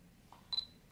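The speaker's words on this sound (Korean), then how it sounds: "전면에 포커스링은 아래로 당기면 수동으로 초점을 조절할 수 있고 올리면 조절이 안 되고 AF 모드가 됩니다." The focus ring of a Fujifilm XF 14mm f/2.8 lens gives a soft mechanical click, then a sharper snap as it is pushed into AF position, close and quiet in a still room.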